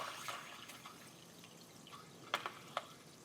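Drain water trickles into the reservoir tank of a GrowoniX GX1000 system fitted with auto shut-off and float valves: a faint, steady wash broken by a few soft, close drips near the end.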